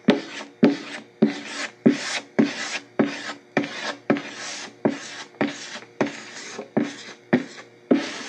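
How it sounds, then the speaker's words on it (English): A squeegee spreads Z-Poxy epoxy pore filler across the grain of a wooden guitar body, giving about fourteen steady, close, raspy scraping strokes in an even rhythm with no talking. "I'm just using a squeegee,"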